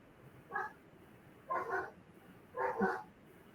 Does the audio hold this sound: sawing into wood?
no